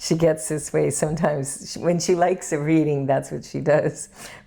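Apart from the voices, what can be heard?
No distinct noise like a dog, phone or traffic.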